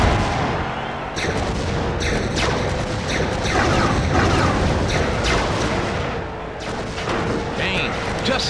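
Laser-guided rockets fire in the WWE Crush Hour vehicle combat video game, a loud, dense stream of booming blasts and crashes under an excited commentator's voice.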